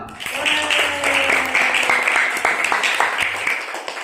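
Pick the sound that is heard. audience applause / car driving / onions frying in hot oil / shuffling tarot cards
audience applause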